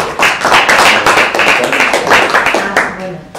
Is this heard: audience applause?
yes